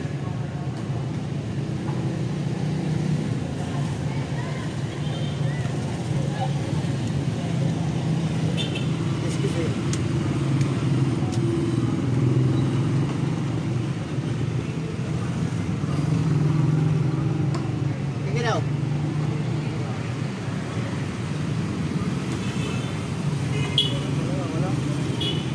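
A car engine idles steadily after its battery has been replaced, a continuous low rumble that holds through the whole stretch with only faint higher noises above it.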